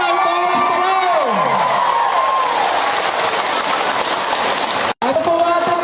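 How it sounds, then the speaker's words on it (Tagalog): Outdoor crowd at a relief-goods event in Santa Brigida, Oriental Mindoro, cheering and applauding loudly and continuously, with an amplified voice speaking over the start and end. "Isang sigaw po na malakas at palakpak na buhay sa Gobernador Boss Dolor!"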